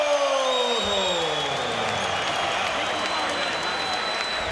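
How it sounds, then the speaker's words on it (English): A crowd on its feet cheering at a boxing match in Boardwalk Hall, Atlantic City: a dense, loud, continuous roar of voices and applause, with a few sliding tones cutting through the noise. "The crowd here at Boardwalk Hall in Atlantic City on its feet cheering"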